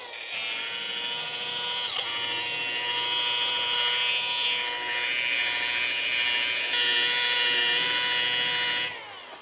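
A machine polisher buffs the clear coat on a spray-painted car, producing a steady, loud high-pitched whine that holds for about nine seconds with slight shifts in pitch and no talking.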